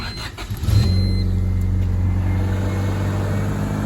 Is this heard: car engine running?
yes